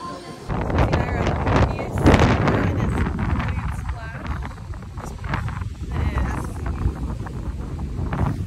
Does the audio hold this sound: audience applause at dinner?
no